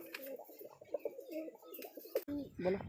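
Pigeons coo in low, throaty repeated bursts close by, the soft calls rolling one after another with faint background noise.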